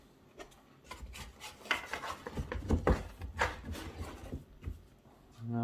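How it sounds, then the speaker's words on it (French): Soft brioche dough is rolled and rubbed across a baking dish to gather it up, producing quiet, irregular scraping and dull rubbing strokes, close and faint. "On va faire rouler la pâte sur tout le plat hein, pour récupérer un maximum"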